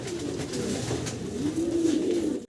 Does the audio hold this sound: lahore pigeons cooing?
yes